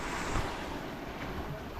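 Rough sea churning around a boat on the West Philippine Sea, a dense continuous roar of waves and wind buffeting, loud and close with no talking.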